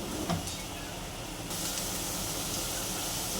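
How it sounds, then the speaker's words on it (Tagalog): Tomatoes and onions sautéing for spring rolls give off a steady, close hiss of sizzling that grows slightly louder partway through, with no talking. "Una, magigisa tayo ng kamatis, sibuyas"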